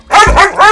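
A dog in a Malayalam comedy film scene lets out three quick, loud barks close by, evenly spaced with no talking over them.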